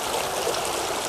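Creek water flowing during a water-sampling visit, a steady, close rushing trickle of moving water heard alone, with no voices.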